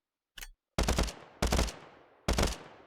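A gun in Minecraft fires three-round bursts: three sharp, loud bursts of rapid shots, each followed by a short decaying tail, preceded by a brief mechanical click.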